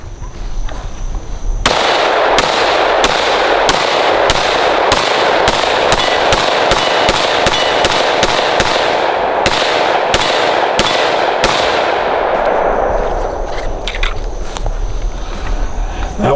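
A 5.7mm pistol with a ported slide and threaded barrel fires around eighteen sharp, loud shots in a quick, fairly even string over about twelve seconds, with the last ones spaced more widely.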